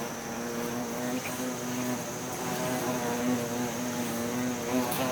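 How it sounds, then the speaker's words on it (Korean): Honeybees buzzing together as a collective warning to a giant hornet at the hive entrance in a forest, a steady droning hum that holds at an even, moderate level throughout. "꿀벌들은 먼저 집단적으로 경고를 보낸다."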